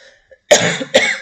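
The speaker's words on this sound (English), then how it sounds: "I'm sorry when I'm coughing." Two sharp coughs in quick succession, close and loud, each a harsh burst with a short ragged tail, after a brief quiet start.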